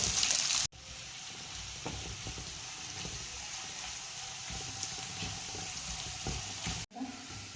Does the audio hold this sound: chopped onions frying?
yes